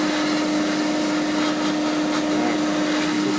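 An airbrush sprays paint onto model aircraft parts for a 1/48 Airfix Messerschmitt Bf 109E kit, giving a steady, close airy hiss with a constant compressor hum underneath, unbroken throughout.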